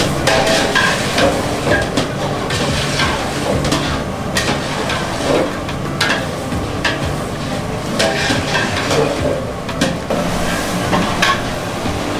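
Vegetables and spices for a large batch of veg pulao stirred in a big pot, a steady scraping and sizzling churn with repeated metallic clinks of the spoon against the sides, close and loud.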